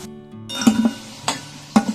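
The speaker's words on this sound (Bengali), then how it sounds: "আলুগুলোকে এখানে ভালো করে নাড়াচাড়া করে ভেজে নেব।" Diced potatoes being fried in a wok for a green jackfruit curry, with a quiet sizzle beneath a few sharp scrapes and clinks of a spatula stirring against the pan.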